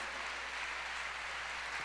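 Congregation in a church service giving applause, a steady dense patter of many hands, moderately quiet and unbroken, with a low hum underneath and no voices.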